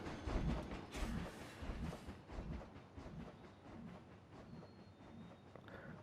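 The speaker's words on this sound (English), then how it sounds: "Oh, and then the train actually goes around." A roller coaster train in the Planet Coaster video game rumbles and rattles along its track, with rolling clatter and a few squeals. The sound is loudest at the start and eases off as the train runs on.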